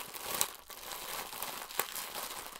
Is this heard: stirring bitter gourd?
no